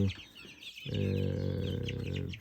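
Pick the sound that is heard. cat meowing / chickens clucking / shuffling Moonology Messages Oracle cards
chickens clucking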